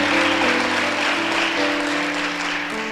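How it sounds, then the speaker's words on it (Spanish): A church congregation claps loudly and continuously in dense, sustained applause, with a band playing steady chords underneath. "¿Cuánto le pueden dar un fuerte aplauso al Señor?"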